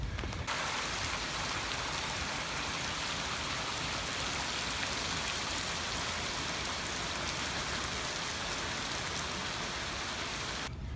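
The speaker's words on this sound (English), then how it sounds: "Here comes the rain." Steady rain pours down in a dense, even hiss on surfaces near a garage during a Jeep fender trim job, constant and moderately loud throughout without pauses or talk.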